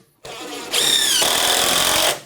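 A power drill drives screws into wooden basement framing, the motor whining steadily at high pitch for about a second and a half before spinning down, loud and close with no talk.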